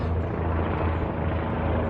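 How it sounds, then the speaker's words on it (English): Steady low rumbling drone of a helicopter, continuous and fairly loud, with a broad wash of rotor noise and no talking. "there's a fucking helicopter again"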